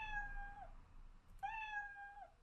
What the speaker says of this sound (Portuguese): Ele anda e mia.